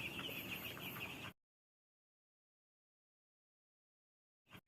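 Broiler chickens on a farm cluck and murmur together as a steady flock chorus for just over a second, then everything falls silent, with a brief return of sound at the end.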